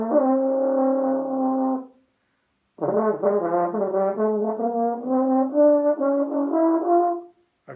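A brass instrument is played with no mouthpiece pressure and a poor lip seal, producing two held, fuzzy, unfocused tones with a buzzy edge and a slight wavering, separated by a brief silence, loud and close.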